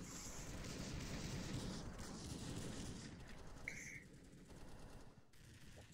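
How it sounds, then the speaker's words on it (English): Rapid gunfire from a VR shooter game, Bullets and More, rattles in dense continuous bursts for several seconds, then thins into a few sparser shots and tones near the end. "Let me shoot someone."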